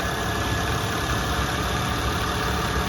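A car engine idling, heard up close as a steady, even hum and rumble with a constant faint whirring, no knocks or squeaks and no talk.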